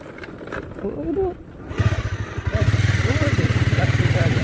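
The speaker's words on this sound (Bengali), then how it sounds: "বাইকটার আওয়াজ বেশি" A motorcycle engine clatters loudly up close with a rapid, rough pulsing beat, growing stronger after a voice speaks briefly over the start.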